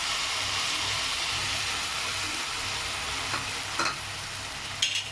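Vermicelli stirred through warm jaggery syrup in a pan for samiya burfi, a continuous close sizzle with scraping strokes of a spoon and a few louder clicks near the end, no voices.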